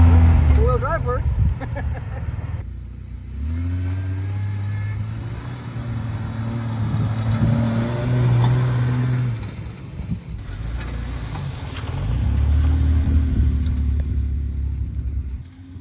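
A Jeep Wrangler TJ driving in four-wheel drive gives a steady, loud, low engine rumble that drops away briefly near the middle and then surges back. A voice can be heard over the drone at times.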